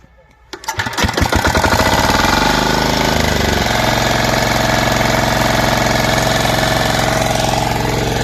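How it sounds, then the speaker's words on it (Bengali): A farm power tiller's engine starts with sharp rapid pops, then settles into a loud, close, steady mechanical chugging before ploughing a field. "এই জমিটা এখন চষা হবে এই মেশিন দিয়ে আপনাদের সরাসরি দেখাবো লাইভ দেখাবো আপনাদের এর কার্যকারিতা কেমন"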